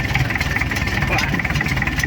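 A homemade tractor's engine runs at a steady idle, a continuous mid-to-low rumble with an even, slightly pulsing texture and no pauses.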